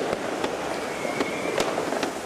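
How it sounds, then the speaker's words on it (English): New Year fireworks over Sydney, several sharp distant bangs and crackles spaced irregularly over a steady background hum, fairly faint. "fireworks signalled the start of a new year"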